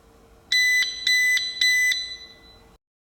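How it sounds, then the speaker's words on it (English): Kwikset 264 electronic deadbolt signalling a reset: three long, evenly spaced electronic beeps, each pulsing bright and close, then silence. "press and hold for 5 seconds until you hear 3 long beeps"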